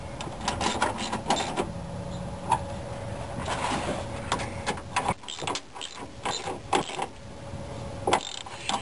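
Close, dry mechanical ticking and clicking from a ratchet snugging two 10 mm bolts that hold a car radiator to the cross member, repeated bursts of clicks with short pauses and no talking.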